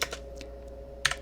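A computer keyboard clatters through a command being typed in a Linux terminal on a file server setup, with a few light keystrokes and a short louder burst near the end, quiet and close.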